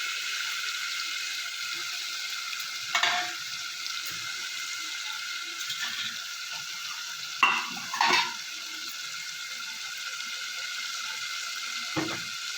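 Black cardamom paste being stir-fried in a pan for a Bihari-style egg curry, a soft continuous sizzle with a handful of spaced spatula scrapes and clinks against the pan.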